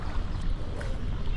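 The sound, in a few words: shikara boat moving on Dal Lake, Srinagar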